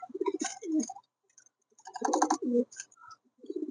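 King pigeons utter several short, throaty coos nearby, coming in bursts separated by brief silences, with nothing else audible.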